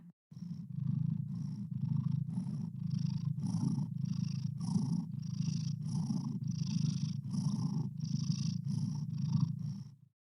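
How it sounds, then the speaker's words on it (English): A steady, close cat purr rolls on without a break for about ten seconds, a low rhythmic rumble with soft pulses and no other sounds. "he waits until I do my sound check, and that's when he starts purring like that"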